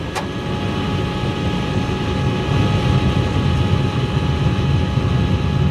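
Continuous aircraft propeller engine drone on a cockpit recording, a steady even hum with a faint brief click near the start, no voices.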